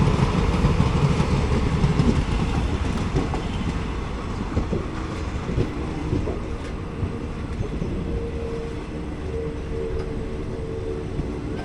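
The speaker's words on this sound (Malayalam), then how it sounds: "ആ ട്രെയിൻ വരുന്നതാണ് ഹാസൻ ലൈൻ, ഹാസൻ മൈസൂർ ലൈന്." Talguppa–Mysore Express passing on the Hassan–Mysore line, heard as a steady loud rumble of rolling rail cars with clickety-clack wheel beats continuing throughout, no talking.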